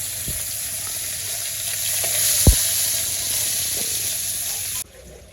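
Cumin seeds crackle and sizzle in hot oil, a steady hiss with a few sharp pops and a utensil knock midway, before the sound cuts off abruptly near the end.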